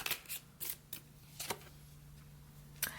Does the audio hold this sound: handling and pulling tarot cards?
yes